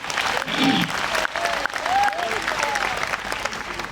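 A seated audience at a religious satsang claps hands together in loud, continuous applause, with a voice briefly speaking over the clapping.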